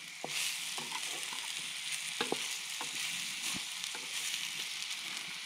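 Sausages fry over a campfire in a steady, crackling sizzle, with frequent sharp pops and spits scattered across it and no voices.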